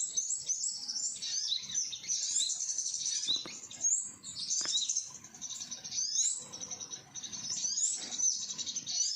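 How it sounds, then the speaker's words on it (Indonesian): Male flowerpecker chirping in forest, a steady stream of high, thin chirps and twitters repeating throughout, fairly close and clear with faint rustling beneath. "Burung cabai-cabean jantan."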